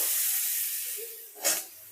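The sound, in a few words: pumpkin sizzling as it is added to hot mustard oil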